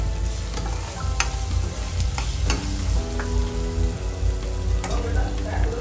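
A curry with raw mango, salt and spices is stirred in a frying pan, a loud steady sizzle broken by repeated scraping and clanking strokes of the spoon against the pan.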